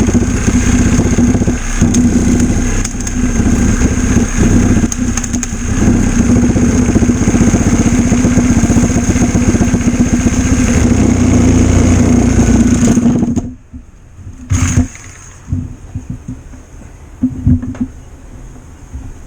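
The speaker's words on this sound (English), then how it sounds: "I'm going to use my sawzall to cut it in half." A Sawzall reciprocating saw cuts a frozen pig candy block in half in a workbench vise. The motor gives a loud, steady, close buzzing drone for about thirteen seconds, then cuts off, followed by scattered clunks and handling noises.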